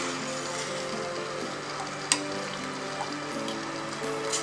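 Sugar syrup boiling on the stove for raw mango candy, a soft continuous bubbling and sizzling with a few faint clicks, close and fairly quiet, no talking.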